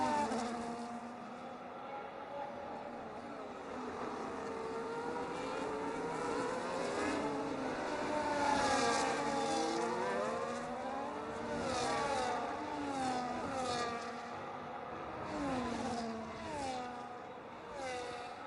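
Racing cars, among them an Aston Martin and a Mercedes, whine past in a sim racing game at the Netherlands round, layered engine notes rising and falling as cars pass and shift, moderately loud and steady with no talk over them.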